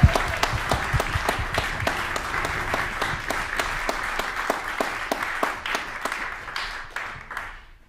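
A concert hall audience at a string quartet performance gives a sustained round of applause, dense clapping that holds steady and then slowly thins out near the end.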